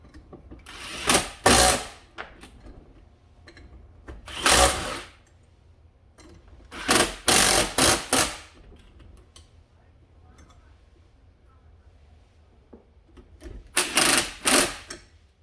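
Bolts being tightened on the engine of a Honda Odyssey FL250 during restoration, heard as several separate bursts of rapid mechanical ratcheting, each lasting about a second, spaced apart by quiet gaps.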